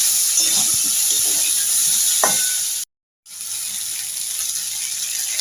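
Water is poured into a pan of frying tomatoes and potatoes for a homestyle tomato aloo posto, giving a steady hissing sizzle with a brief splash near the middle and a short cut to silence before the sizzle resumes.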